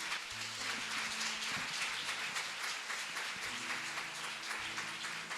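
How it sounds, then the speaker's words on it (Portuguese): A church congregation applauds in a sustained, rain-like wash of many hands clapping at once, with murmuring voices low underneath for the whole stretch. "Se você pode, aplauda o Senhor mais uma vez no seu lugar."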